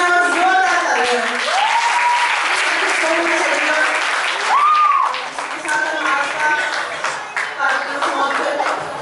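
An audience at a Hindi drama for Shivaji Jayanti by residents of a Thane housing complex breaks into loud, sustained applause, with a voice and musical tones sounding over the clapping before it thins out.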